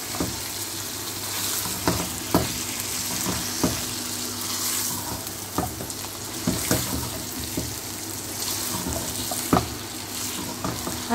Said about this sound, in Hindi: चिकन को कलर इसका चेंज होने तक मैं फ्राई करूंगी, पकाऊंगी इसमें।